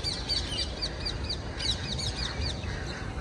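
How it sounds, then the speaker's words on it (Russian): Flock of parakeets in a tree giving repeated sharp, high chirps and calls, overlapping in quick succession over a steady outdoor background hiss. "Хочу заснять попугайчиков. Ой, какие, ой, какой ты крикливый."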